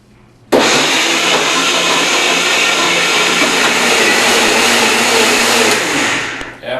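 A blender whirs loudly and steadily while crushing ice into a smoothie, starting abruptly and running continuously for several seconds before easing off near the end.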